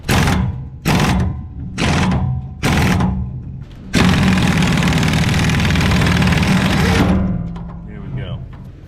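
A lawn mower engine under repair sputters in four short bursts with brief gaps, then runs steadily for a few seconds before dying away, loud and close.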